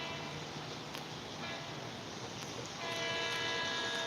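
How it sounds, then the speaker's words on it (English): A CT rail train passes on the track, reversing, with a steady rumble and rolling noise that swells a little louder toward the end and a faint tonal whine above it. "That is CT rail going backwards."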